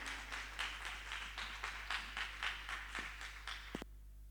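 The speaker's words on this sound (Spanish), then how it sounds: "por favor recibamos con un aplauso de cariño y de amor a nuestro amigo y hermano el pastor Dadonim" An audience applauds to welcome a pastor, a soft, steady patter of clapping with a loose rhythm that stops abruptly near the end.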